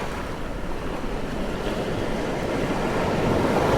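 Ocean waves wash over a shell-sand beach in the Sha Dao Conservation Area at Kenting, giving a steady, close wash of surf with some wind buffeting that swells slightly toward the end.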